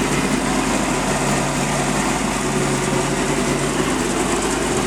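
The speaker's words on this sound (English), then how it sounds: "The gimbal bearing definitely is making some racket." A steady, close engine hum from a Sea Ray 220 boat's 7.4 big block with a noisy gimbal bearing, a constant mechanical whine and rattling drone running unchanged throughout.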